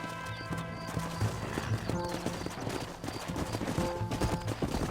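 Horse hooves pound in a steady galloping clip-clop throughout in Red Dead Redemption, with a whinny and a dense bed of game music and ambience, no speech.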